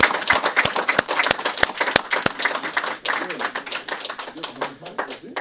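A small audience at a French-language literary reading gives sparse, distinct handclaps for a poet's text, a few separate claps rather than a full ovation.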